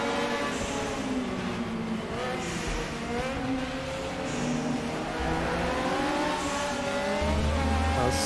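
Group 5 Ford Capri race car in the RaceRoom racing game at TT Circuit Assen, heavily boosted turbo engine droning and revving continuously with gear changes, loud and close under a quiet commentator's voice.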